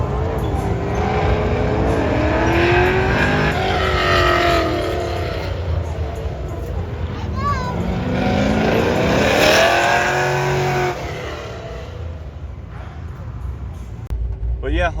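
An OBS Chevy race truck with an independent rear suspension swap drives steadily, its engine droning and shifting in pitch, with a voice talking over it throughout.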